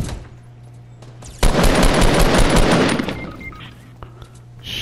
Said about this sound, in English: There's a guy behind me shooting me.